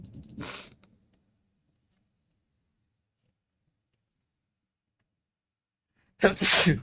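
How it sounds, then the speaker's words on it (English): Two sharp sneezes, one at the start and one at the end, separated by a long stretch of silence. "Randomly, I'll just start sneezing for no reason."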